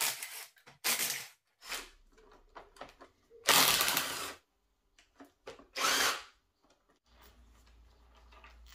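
An impact driver or drill loosens the top triple clamp bolts on a Yamaha FZ6 Fazer custom build, with several short, loud, close bursts separated by quiet gaps and faint handling clicks.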